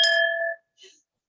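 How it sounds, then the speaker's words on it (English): A bell struck once, ringing out with a clear sustained metallic tone that fades after about half a second, followed by a faint short echo-like tail, alone without talk. "Peter, I'm going to ring a bell for us"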